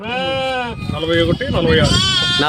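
A chorus of sheep bleat loudly nearby, one long wavering call after another, while a person speaks in the background.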